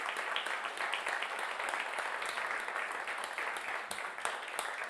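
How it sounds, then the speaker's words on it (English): Audience applause after a live music set on the WDVX Blue Plate Special radio show, a steady, moderately faint stream of clapping with occasional sharper individual claps. "how about one more round of applause"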